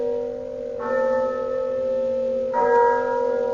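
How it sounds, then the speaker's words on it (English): A church bell tolls twice in a 1965 radio drama of Dickens' A Christmas Carol, two clear resonant strikes about two seconds apart, each ringing on with a long sustained hum over a quiet background. "But as the bell sounded,"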